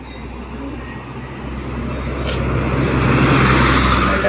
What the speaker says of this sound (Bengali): একটা গাড়ি গেল